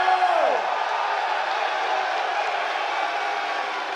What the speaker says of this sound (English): We got a loud crowd, let's go.